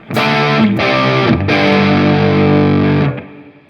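A heavily distorted electric guitar chord through a Big Joe Empire Dual Overdrive pedal rings out, cuts briefly, then sustains loudly for about two seconds before stopping, with a gritty, saturated tone.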